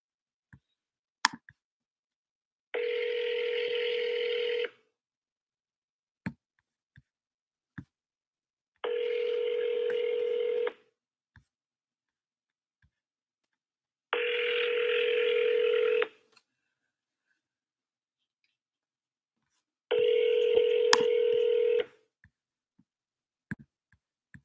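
An outgoing phone call rings on the line with four long, evenly spaced ringback tones about six seconds apart, clear and close, with faint clicks between them and no talking.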